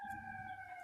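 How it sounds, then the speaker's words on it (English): Emergency vehicle siren wailing outside, a steady sustained two-tone howl held across the whole short moment, moderately loud and fairly distant, with no talking over it. "the sirens are already coming"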